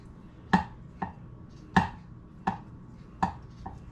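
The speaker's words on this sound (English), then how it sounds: "Just chopping up the eggs however small you like your eggs." A knife chops through boiled eggs onto a cutting board in six quick, irregular strikes, close and fairly quiet, with no voices.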